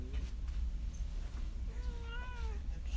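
A shop cat in a woodcraft workshop gives a short, faint meow, rising and falling, above a steady low hum of the room.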